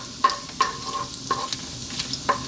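Cumin seeds, dried chilies and whole garam masala sizzle in hot sunflower oil with a soft steady crackle, while a spoon stirs in with several sharp metallic clinks against the pan.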